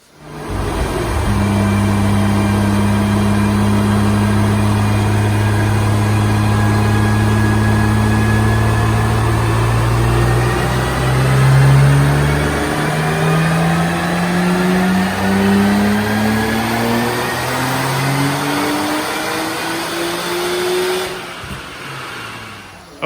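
A Nissan R33 GTR running E85 on a dyno, its engine revving in one long sustained pull that climbs steadily in pitch for about twenty seconds, loud and close, then cuts off.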